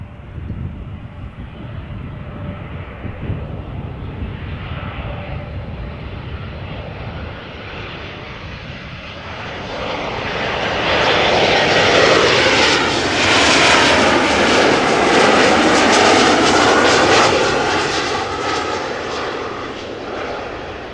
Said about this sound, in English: We're now looking at an Embraer 190 from KLM arriving from Nuremberg in Germany.